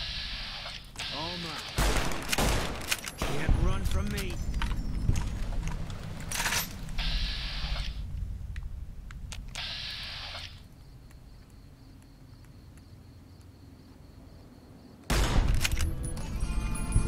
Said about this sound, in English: What the hell are you guys shooting?